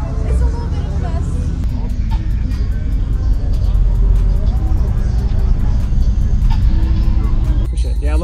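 Two 8-inch subwoofers in a 6th order box play a bass demo, giving a loud, dense, continuous low-end rumble throughout with faint clicks and noise over it.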